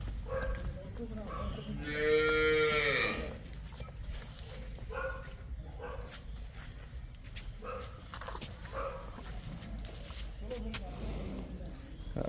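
A Jersey cross cow on a dairy farm lets out one loud, drawn-out moo early on, then people talk amid faint farmyard noises and scattered shuffling.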